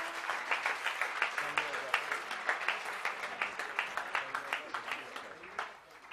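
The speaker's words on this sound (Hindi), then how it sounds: "मैं चाहूंगा कि जोरदार तालियां बजाकर आप लोग धन्यवाद दें।" Loud audience applause at a Hindi-language public gathering, dense rapid clapping sustained throughout with rhythmic peaks, fading slightly at the end.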